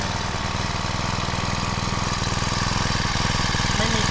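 Small used Honda brush cutter engine running steadily at a fast idle, a close, loud buzzing putter with an even rapid rhythm throughout.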